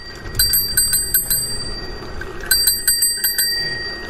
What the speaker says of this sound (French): m'amuser à donner des coups de sonnette.